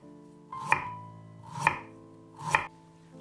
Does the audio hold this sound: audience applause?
no